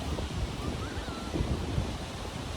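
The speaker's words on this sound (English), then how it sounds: "Waves are crashing over you, so you're laying in the surf zone." Ocean surf crashes in the surf zone during BUD/S cold-water training, a steady roar of breaking waves with gusty wind buffeting the microphone and no voices.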